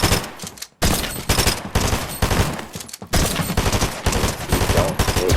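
Rapid bursts of gunfire from the video game Fortnite, fired at a bot over and over for headshots, loud and dense with only two short breaks in otherwise continuous shooting.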